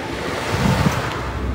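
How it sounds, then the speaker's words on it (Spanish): A strong outdoor wind blows in a continuous broadband roar that buffets the microphone. It stays loud and steady throughout, and no one speaks. "Está corriendo harto aire."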